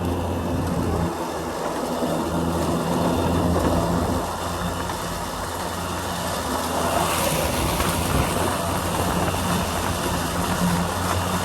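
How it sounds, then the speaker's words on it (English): An EGO Z6 electric zero-turn mower runs across grass with a steady drone, rushing wind noise and a continuous broadband whir. "Just like any other zero turn you guys are used to, let's mow."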